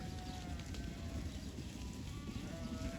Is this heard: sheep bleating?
yes